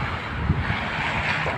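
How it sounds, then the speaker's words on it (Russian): Strong, icy winter wind in snowy Orenburg buffets the microphone with a constant loud roar and gusty rumble, and no voices are heard over it. "Холодный прям ветер, ледяной"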